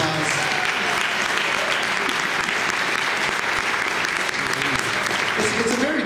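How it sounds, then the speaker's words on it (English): Audience at a live Billy Corgan event in Chicago breaks into loud, steady applause that carries on unbroken throughout, dense clapping filling the room. "Here's some applause."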